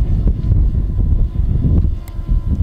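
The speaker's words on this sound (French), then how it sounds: "il y a quand même pas mal de vent" Strong wind at over 5200 m altitude buffets the microphone in low, rumbling gusts, loud and continuous.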